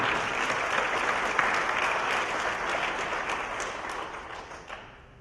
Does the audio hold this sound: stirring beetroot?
no